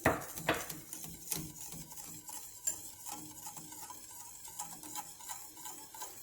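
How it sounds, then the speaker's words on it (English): A spoon stirs soaked gelatin into a Spanish cream mixture in a bowl, making soft repeated clinks and scrapes with a brief louder knock at the start, close and quiet with no talking. "And just give that a really good stir."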